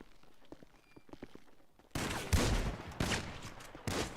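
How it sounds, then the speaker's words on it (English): Several loud gunshots ring out at close range in a GTA roleplay shootout, first some faint distant pops, then heavy bursts of fire in quick succession. "Shots fired."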